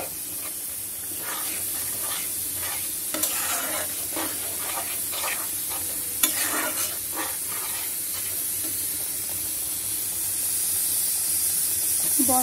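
Prawns and potatoes cooking in a curry pan give a steady, moderately loud hiss and sizzle with a few faint scrapes and no talking.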